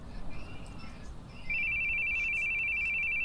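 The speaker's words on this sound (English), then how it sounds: "Your phone. Your phone's ringing." A phone rings in The Boogie Man video game, a steady electronic ringtone that starts partway through and continues loudly over quiet background ambience.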